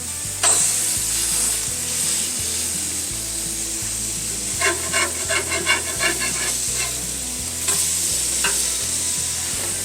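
Smashed sausage patties sizzle loudly on a hot cooking surface, a constant hiss with bursts of spattering crackle and occasional scraping of a spatula.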